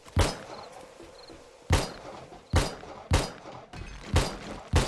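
Gunfire in the survival game 7 Days to Die, six loud separate shots spaced irregularly about a second apart, each a sharp crack with a short decay, no voices.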